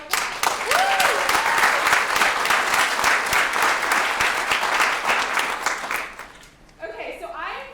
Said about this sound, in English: congratulations, I think you all deserve a huge round of applause.